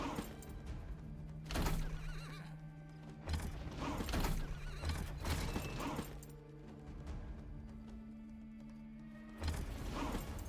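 A horse neighs during a battle in a real-time strategy video game, with repeated whinnies over a dense, steady din of clanking, hoofbeats and mechanical combat noise, loud and continuous with no talk.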